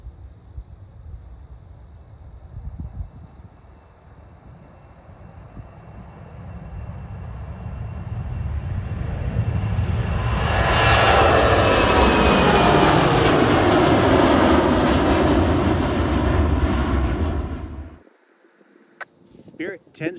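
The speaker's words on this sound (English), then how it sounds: "Spirit 1069 heading out to Las Vegas." A Spirit Airlines jet departs Cleveland airport at night, its engine roar building from a low rumble into a loud, broad sustained thunder that holds for several seconds and then cuts off sharply to near quiet.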